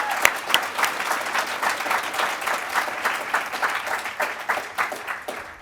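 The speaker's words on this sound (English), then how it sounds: "Can we get another round of applause for her 42 marathons?" A crowd at a pre-race celebration for a charity marathon team gives a round of applause for a runner, with steady, lively clapping that continues throughout.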